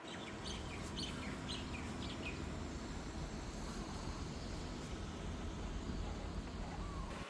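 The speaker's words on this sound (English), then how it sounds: "I'm enjoying hearing the sounds of the tropical birds that are here" Faint tropical bird chirps and calls scattered over steady background noise at a beach shore, birds sounding somewhat distant, no talking.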